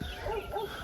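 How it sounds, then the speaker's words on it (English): Dogs at a farmer's house in a mountain village on Naxos, Greece, give short, excited barks, heard at moderate distance over outdoor background noise. "The dogs are going a little crazy."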